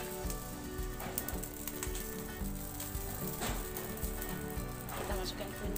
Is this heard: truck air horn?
no